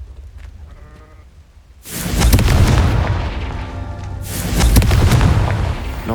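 Confringo spell explosion in Hogwarts Legacy: after a quiet moment, two loud, broad blasts burst out a couple of seconds apart, each rumbling and crackling as it decays.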